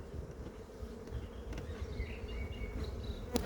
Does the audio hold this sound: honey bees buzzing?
yes